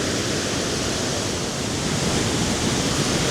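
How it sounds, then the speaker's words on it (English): A massive, wide waterfall roars with a loud, dense, continuous rush of falling water, heard close up and unbroken. "Now this waterfall, it's not just massive, it's wide."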